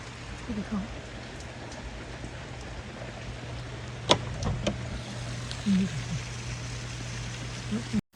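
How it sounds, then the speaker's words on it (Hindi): Steady rain falls outside in the evening, a constant hiss of drops on surfaces with a few sharp knocks and faint voices in the background. "बाहर इतनी तेज़ बारिश होने लग गई है"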